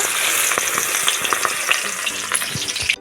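Cabbage fritters frying in hot oil in a kadai, a steady loud sizzle with scattered crackles and small pops, and a few soft clicks of a utensil moving the pieces.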